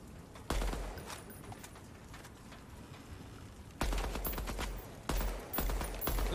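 Bursts of gunfire from a video game, with a sharp volley near the start and two more loud, clustered bursts near the end over a steady low background.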